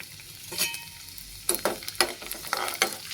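Cumin seeds tipped into garlic cloves frying in oil for Hyderabadi tomato chutney, a soft sizzle that erupts into sharp crackling bursts, close and fairly quiet.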